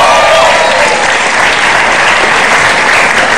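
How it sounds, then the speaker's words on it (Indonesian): Loud, dense applause from a large television studio audience, continuous clapping filling the whole stretch without pause. "Tepuk tangan tuh semuanya."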